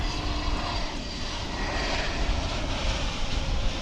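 An American Airlines passenger jet arriving at DFW International Airport, its engines giving a steady, continuous roar that holds at an even level throughout, moderately near and with no voices.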